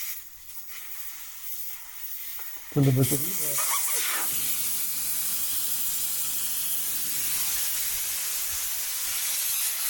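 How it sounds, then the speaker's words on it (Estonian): After a short burst of speech, air rushes out of an Ineos Grenadier tyre with its valve core removed, a loud steady hiss that continues unbroken to the end. "Nii, võtame ventiili välja ja nad siis tühjaks."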